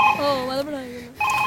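A telephone rings with a bright electronic tone at the start and end, while a voice is heard in between.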